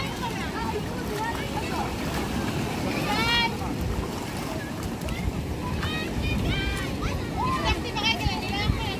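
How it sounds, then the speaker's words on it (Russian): Sea waves and a strong current wash steadily at a seashore, a continuous rushing roar with wind buffeting the microphone while people talk nearby. "Тут течение и волны."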